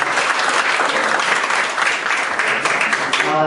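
An audience at an NGO accountability talk applauds, with loud, dense, sustained clapping at a steady level.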